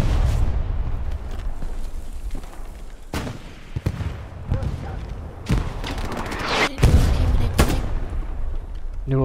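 In a World War II video game set around Sainte-Mère-Église, a grenade explosion and bursts of rifle and machine-gun fire crack loudly and repeatedly over a rumbling battlefield, with voices talking over the fighting.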